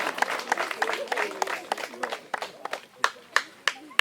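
Scattered hand clapping from a small group at a school prize-giving ceremony, fading to a few slow, sharp claps at the end, with voices chattering underneath.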